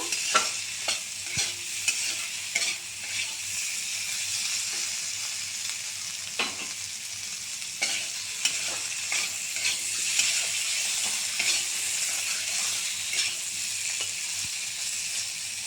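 Small rohu fish sautéed in oil with turmeric and salt, a continuous soft sizzle broken by frequent scraping strokes of a spoon stirring the pan.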